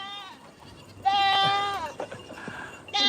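Goats bleat in a pig pen, one long, wavering, nasal cry rising loudly after a quiet stretch, followed by shorter calls and another bleat starting at the end.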